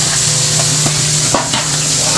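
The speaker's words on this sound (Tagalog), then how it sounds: "magpiprito po tayo ng bangus na patay sa tubig, lumlum" Milkfish (bangus) fries in hot oil in a pan, with a continuous sizzle and a few soft knocks and stirring scrapes from a utensil at a fishpond household kitchen.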